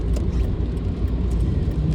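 Car driving and merging across multiple lanes of traffic in the rain, a dense, steady low rumble of road and engine noise heard from inside, constant and fairly loud.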